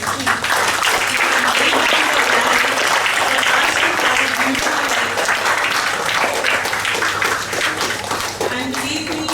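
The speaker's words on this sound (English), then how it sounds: "So a big round of applause to the soldiers of our country." School assembly applause for the nation's soldiers on Kargil Vijay Diwas, loud sustained clapping from many students filling the hall, with voices mixed in and faint tones underneath, tapering slightly near the end.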